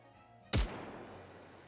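A single sharp, loud gunshot from Sakura's rifle in the video game Nikke: Goddess of Victory, with a deep booming punch and a rumbling tail that fades slowly after the blast.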